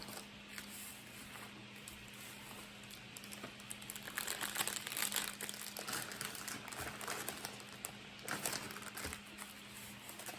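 Plastic Ziploc bags crinkle and rustle close by as steaks are packed into them, soft irregular crumpling in quick bursts over a faint background hum.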